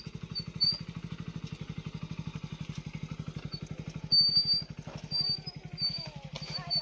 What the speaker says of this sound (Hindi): वेदू को कोई भी बाइक में ले जाए और वापस ले आए, वेदू खुश हो जाती है।